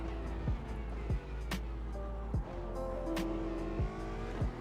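Aston Martin Vantage GT4 race car lapping Silverstone GP in a sim racing game, its engine droning steadily with repeated sharp gear-shift blips and rising revs, loud and close throughout with no talk.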